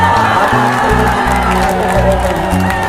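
A loud, dense crowd at a public gathering applauds and cheers for a guest, with whoops and raised voices in a continuous roar that holds steady for about three seconds.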